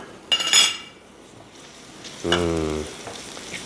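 Food sizzles in a hot iron wok, with a scrape of a utensil early on and a louder hiss and clatter as ingredients are stir-fried.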